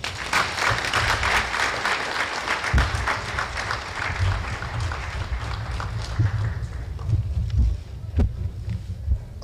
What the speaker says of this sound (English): Let's have another big round of applause for Professor Gadzama and the Standing Commi